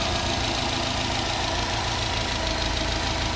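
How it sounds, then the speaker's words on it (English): A Subaru Impreza's 2.5-liter turbocharged boxer engine idles close by, a steady rumbling drone with a faint knocking texture and no talking. "turbo boxer engine, pumping out about 280 horsepower."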